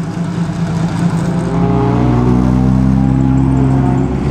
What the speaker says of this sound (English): here's the Ferrari, the Marzotto Brothers Ferrari